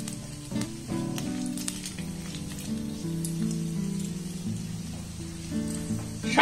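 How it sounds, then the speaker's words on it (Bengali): Whole cardamom, clove and a cinnamon stick sizzle in hot mustard oil for an aloo dum curry, a steady close-up crackle and hiss that swells briefly near the end, with no talking. "তেলটাকে গরম করে নিয়ে এর মধ্যে দিয়ে দেবো একটা এলাচ"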